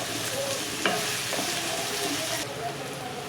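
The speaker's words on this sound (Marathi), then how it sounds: "आता मी याच्यामध्ये टोमॅटोसुद्धा छान अगदी मस्त शिजू देईल" Tomatoes, onion and capsicum cooking in a pan for Mumbai-style pav bhaji, a continuous bright sizzle with a couple of clinks from the spoon; no talking.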